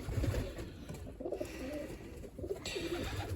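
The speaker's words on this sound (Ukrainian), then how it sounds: "Прекрасна, прекрасна пташка." Low, soft cooing of a pigeon repeated several times, close by, over a quiet background hum.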